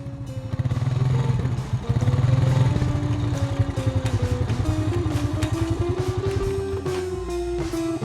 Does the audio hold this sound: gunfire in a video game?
no